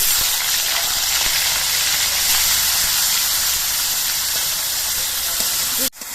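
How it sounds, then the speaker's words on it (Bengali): Shrimp fry in a pan with a loud, dense, continuous hiss that holds steady throughout and drops away abruptly at the very end. "এবার চিংড়ি মাছগুলো আমি ভেজে নিচ্ছি"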